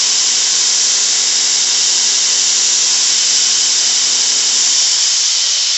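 A belt sander grinds a knife blade near the ricasso in a loud, continuous high hiss, unbroken for the whole stretch.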